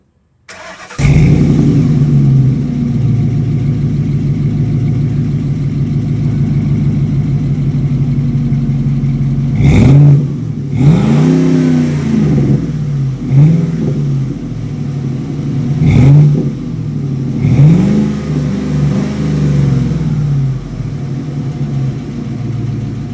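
A 2007 Ford F-150 FX2 Sport with a 5.4L engine and dual Flowmaster exhaust starts up loud and close, idles with a deep burble, then revs sharply three times, each rise falling back to idle.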